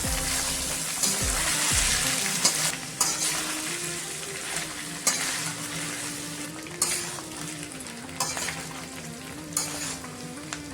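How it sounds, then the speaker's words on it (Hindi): Beef kidney and liver masala frying in a pan, a continuous loud sizzle with recurring spatula scrapes and clinks against the pan every second or so, close up and without talk. "मैं 5 मिनट फ्राई कर लिया"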